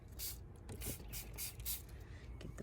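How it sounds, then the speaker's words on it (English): A spray bottle mists squash plants in repeated short hissing puffs, about six quick squirts in a loose rhythm, close but quiet, with faint trigger clicks between them. "Now we're gonna spray. It's got a nice mist,"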